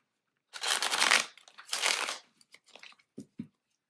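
Tarot cards are riffled and shuffled up close, with two long papery bursts followed by a few short taps and flicks as the deck settles.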